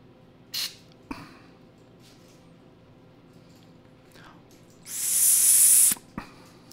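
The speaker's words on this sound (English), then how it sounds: "So what I'm going to do is take and blast some carburetor cleaner" Carburetor cleaner is blasted through the carburetor of a John Deere 1032D snowblower with a 10HP Tecumseh engine, a single loud, close hiss lasting about a second, with a few faint clicks and handling noises around it.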